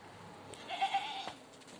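A young goat kid bleats once, a short wavering cry heard close and alone against quiet farm background, one of six kids offered for sale at a livestock market.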